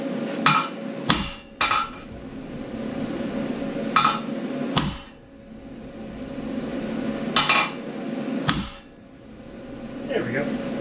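A hammer tapping a steel part of a 14-bolt axle truss into place before welding, several sharp metallic strikes spaced irregularly, close and loud, with someone talking between them.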